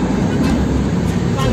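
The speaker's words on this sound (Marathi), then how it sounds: "ट्रेन चाललेली आहे." A train rolls past on a misty forest route beside a road, its steady low rumble and rattle filling the whole stretch at close range, with voices faintly present.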